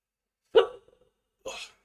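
Two hiccups roughly a second apart, the first sharp and voiced, the second breathier, with silence around them.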